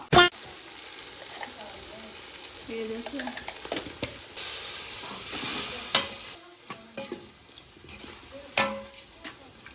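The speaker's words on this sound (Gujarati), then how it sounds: "મમ્મી મિક્સ કરે છે." Food with garlic chutney sizzling in a pot while a spoon scrapes and stirs it in irregular strokes, with a few louder clanks near the end.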